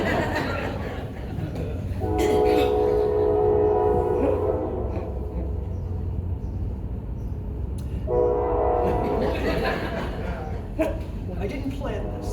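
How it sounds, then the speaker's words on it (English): A train whistle sounds in two long, loud tonal blasts separated by a pause, carried over a steady rumble while a voice speaks throughout. "was a train whistle."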